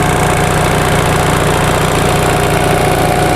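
A 1945 Onan generator engine running loud and close, a steady pulsing mechanical drone with constant vibration and no voices.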